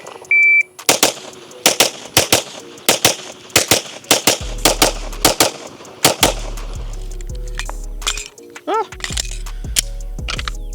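A Staccato HD P4 pistol fires a quick series of sharp, loud shots at a target, irregularly spaced, with beeps from a shot timer and some talk between strings.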